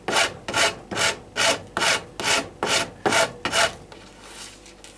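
A file rasps across the edge of a wooden bow tip, rounding it off in about nine even, rhythmic strokes, close and loud, before stopping.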